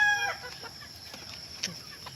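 Farmyard chickens in the countryside at seven in the morning, giving a few soft scattered clucks at a distance, faint and intermittent against light ambient noise.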